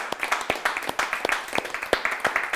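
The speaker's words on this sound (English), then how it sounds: "let me ask for a big clap for Motion Pass team" Scattered clapping from a small audience at an online mobility-prize closing ceremony, a thin run of irregular claps over a few seconds.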